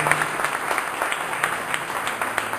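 A church congregation applauds together in a lively service, a dense burst of many hands with quick rhythmic clapping peaks across the whole span, loud and fairly near.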